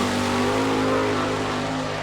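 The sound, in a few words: sprint car accelerating coming off turn four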